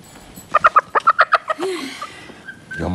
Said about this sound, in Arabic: روح اتبعي الفروج